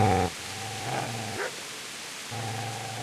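A dog in the medieval video game Kingdom Come Deliverance growls low, then gives a sharp bark, a short yip, and another growl, close and fairly loud, with brief quiet gaps between the sounds.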